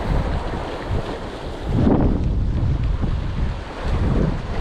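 Strong wind buffets the microphone on a boat at sea during squid fishing, a loud rough roar with gusts swelling and easing, waves washing underneath, no voices.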